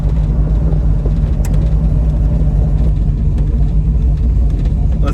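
A 1967 Pontiac Firebird with a 400 engine and electronic ignition accelerates around a corner, its loud mid-range engine rumble steady and close, with faint voices underneath.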